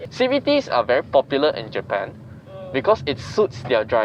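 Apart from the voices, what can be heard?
None of the usual background noises is heard.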